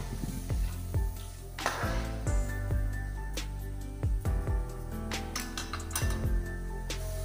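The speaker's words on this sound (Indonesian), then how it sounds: "Lalu diaduk-aduk dan tunggu hingga kuahnya mendidih." Sour Acehnese-style soup broth stirred in a metal pot, a spoon clinking and scraping against the pot in irregular bursts, close and fairly quiet, no speech.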